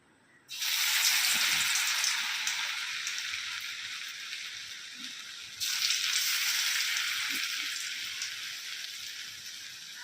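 Tikiya patties of grated bottle gourd peel sizzle loudly in a kadai of medium-hot oil, a steady close frying hiss that swells again midway as the patty is moved or turned, with no talking.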